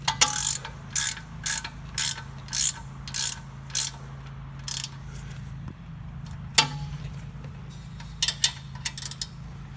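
A ratchet spins bolts on a Toyota Prado passenger-side rear axle, giving repeated short, crisp clicking bursts in a steady rhythm, close by, with a pause and a few scattered clicks later over a low background hum.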